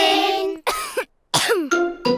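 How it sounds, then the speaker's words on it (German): A cartoon character from Peppa Pig coughs several times in a row, loud and close, each harsh burst breaking off into a short throaty vocal tail with brief gaps between. "Pedros Husten ist ansteckend."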